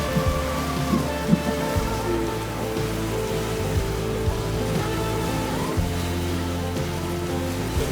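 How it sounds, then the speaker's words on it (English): Rain falls steadily on a fishing boat on open water, a dense even patter with an occasional louder drop and a low motor hum beneath, with no voices. "The rain stops."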